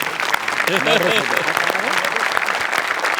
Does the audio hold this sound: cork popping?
no